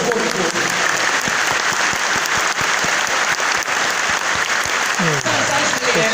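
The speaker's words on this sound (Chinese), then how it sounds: "所以请把这个掌声给最前面30年的所有前辈" Sustained applause from a large audience at a thirtieth-anniversary thanksgiving assembly in Taichung, dense and steady for the whole stretch with a few brief voices rising through the clapping.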